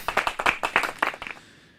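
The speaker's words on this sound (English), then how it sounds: "You get a round of applause for that one." A small audience gives a short round of applause for a talk-show moment, a quick burst of claps about a second long that fades out.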